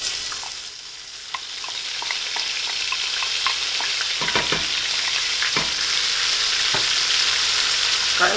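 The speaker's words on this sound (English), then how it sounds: "So now we're going to add our vegetables to saute." Onion, garlic, shallot and celery sautéing in a pan for crab and grilled corn chowder: a steady, close sizzle with scattered spoon scrapes and taps, growing slightly louder.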